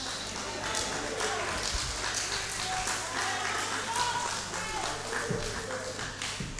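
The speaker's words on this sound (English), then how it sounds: "that applause was for me, so I thank you" A church congregation at a Baptist service applauds steadily, a dense, fairly distant patter of many hands sustained throughout at low level, with murmuring voices underneath.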